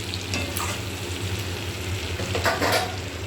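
Curry sizzling and frying in mustard oil in a pan, a steady close crackling hiss with occasional stirring scrapes, no talk.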